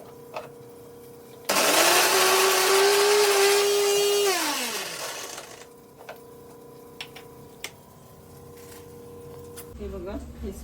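A mixer grinder whirs loudly for about four seconds while grinding coconut masala into gravy, then its motor whine winds down and stops, followed by quiet clicks and light handling sounds.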